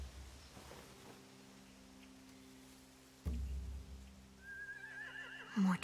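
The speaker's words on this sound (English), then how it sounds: "They have horses." A horse neighs in a Walking Dead video game scene, a loud whinny rising late and ending in a snort, over a low steady ambient hum and faint rumble.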